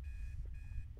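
An alarm clock in the Obsideo video game rings in two bursts of high electronic beeping, separated by a brief gap, faint against a low background hum.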